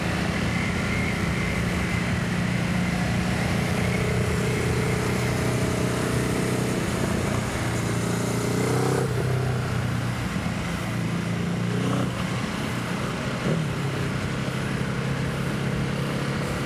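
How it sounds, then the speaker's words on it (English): A Ducati Hypermotard RVE with an SC Projects exhaust rides along a street at a group sundown ride in Berlin, its exhaust giving a continuous loud, raspy engine roar with slight shifts in pitch and no talking. "You can really hear that exhaust, nice SC Projects exhaust on that RVE."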